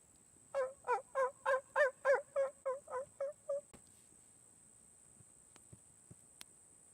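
A rapid series of about a dozen loud wild turkey gobbles rings out near water, then fades, leaving near-silence with a few faint clicks.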